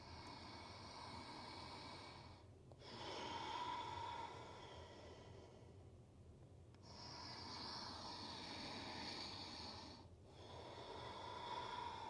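Slow, deep nasal breaths during a yoga class come in long, steady cycles, faint and close, with airy inhales and exhales over a low background hum and no talking.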